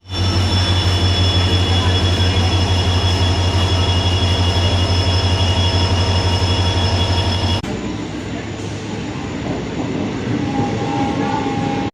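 Passenger train crossing the sea bridge from Mandapam to Pamban, heard from on board as a loud, steady low rumble of wheels on rails with a constant hum, shifting to a slightly quieter roar partway through.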